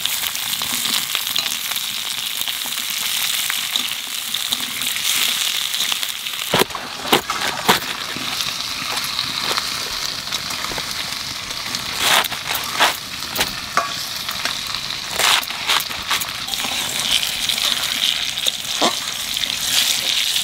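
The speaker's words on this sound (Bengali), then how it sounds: "আলু গাজর ভেজে নিচ্ছি" Potatoes and carrots fry in a pan with green chilies for a Bengali winter vegetable dish, a steady moderate sizzle with occasional stirring clatter and scrapes.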